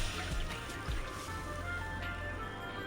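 Water pours into a pan for pineapple sheera, a short, close liquid splash and trickle that settles into a low steady sound.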